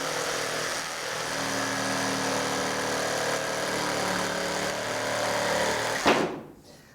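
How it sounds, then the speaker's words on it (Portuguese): A power saw runs steadily through soft pine pallet wood, giving a loud, even whine with a constant tone for about six seconds before spinning down sharply at the end. "o pinus é uma madeira bem mole, tá? Então é bem sossegado de cortar."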